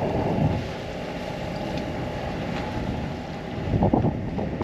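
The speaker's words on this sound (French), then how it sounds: "Je pense qu'on a quand même pas mal de vent." Steady wind roar with water and hull rushing on a Beneteau Oceanis 50 sailboat under sail with engine assist at sea, in about 10.5 knots of breeze, broad and continuous with louder gusts near the end, no talking.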